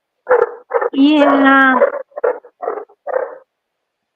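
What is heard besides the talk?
Great Pyrenees puppy barking and grumbling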